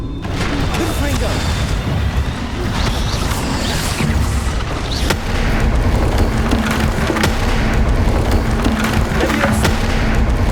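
Repeated Confringo fire-spell blasts from the Hogwarts Legacy video game, loud booming explosions with crackling debris over a dense, continuous game soundscape, with a voice speaking at times.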